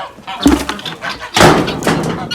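Guinea fowl calling on a farm, two loud harsh bursts of cackling with a faint stretch between them, close by.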